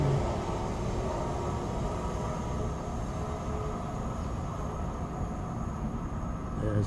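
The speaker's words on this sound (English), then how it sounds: "There's another train there going." Steady rumbling roar of a train rolling by at a distance at Abbey Wood station, a continuous broadband wash with faint high whine on top.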